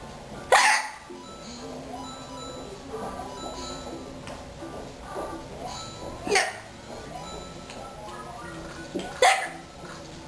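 Three sharp, loud hiccups punctuate the clip at spaced intervals, each a sudden gulping burst, with quieter background sounds and voices in between.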